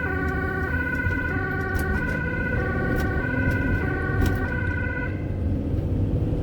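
A Dutch ambulance siren cycling between tones, loud and fairly close, over a low rumble of heavy rush-hour traffic.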